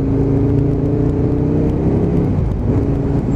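An Aprilia RSV Mille motorcycle with a big V-twin engine pulls hard, its loud, steady engine note rising and holding close up throughout, with no voices.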